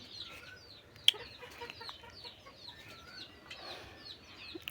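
A turkey hen close to laying age gives soft, scattered clucks among low background noise, with one sharp louder call early on. The sound is quiet and somewhat distant, and no one speaks.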